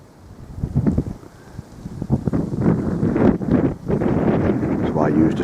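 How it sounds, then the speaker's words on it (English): Icy wind buffeting a microphone outdoors at a stone circle site, low rumbling gusts that swell and fade over several seconds, partly mixed with faint movement sounds. "There's wind blowing on this, I apologise. It's an icy breeze here at the moment."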